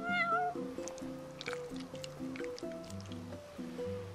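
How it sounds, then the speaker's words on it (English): A cat meows in the video game Final Fantasy XV, giving short mews over a looping melodic music track with light dripping effects in the background. "You're one spoiled cat."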